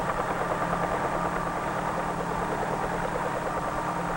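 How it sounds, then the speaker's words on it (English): A 1953 Bell helicopter's rotor and engine produce a steady, fairly faint droning whir with a soft rhythmic beat, continuous and unchanging throughout with no speech over it. "they provide the lift necessary to raise the helicopter off the ground and permit it to hover"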